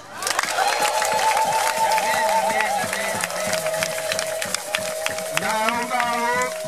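A crowd applauds and cheers during a Kinyarwanda church sermon, with dense, steady clapping and raised voices filling the space for several seconds.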